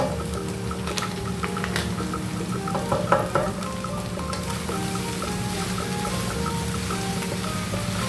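Pineapple fried rice with seasoning fries in a pan, a steady crackling sizzle running throughout with clinks of stirring on top and a brief louder burst of scraping near the middle.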